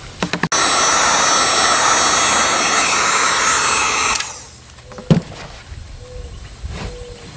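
A PVC sheet is heated around its middle so it can be folded over a gun for a holster: a loud, steady blowing hiss runs for about four seconds, then cuts off, leaving faint handling knocks.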